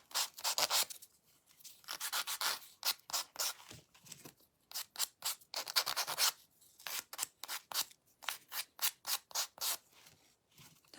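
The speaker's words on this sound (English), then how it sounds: "I'm just doing a light sanding around the edges of these." Short, quick rubbing strokes of light hand sanding on the edges of wooden crow cutouts repeat in bursts, close and fairly soft, with brief pauses between runs.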